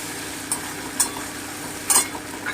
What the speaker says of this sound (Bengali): আদা বাটাটা দিয়ে দিলাম একটু ভেজে নিচ্ছি